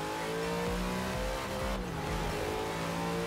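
A racing car engine in Forza Horizon 3 roars steadily, revving and shifting as the car accelerates down a straight, loud and continuous with no talking.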